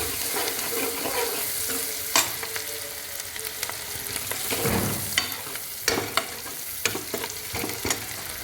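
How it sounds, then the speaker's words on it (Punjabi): Onions frying in a pan for a pumpkin and chana dal curry, a steady close sizzle broken by sharp scraping knocks of a spatula stirring, with no talk. "ਹੁਣ ਆਪਾਂ ਚੰਗੇ ਤਰੀਕੇ ਦੇ ਨਾਲ ਪਿਆਜ਼ ਨੂੰ ਵੀ ਭੁੰਨ ਲਾਂਗੇ"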